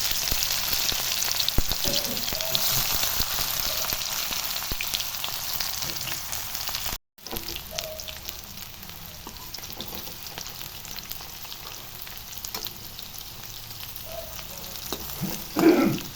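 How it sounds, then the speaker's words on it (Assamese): Stuffed pieces frying one by one in hot oil in a wok, a steady close hiss of bubbling oil running throughout, briefly cut off, with a louder splutter near the end. "এতিয়া যিখিনি পুৰ ভৰাই লৈছোঁ সেইখিনি এপিচ এপিচকৈ ফ্ৰাই কৰি ল'ম।"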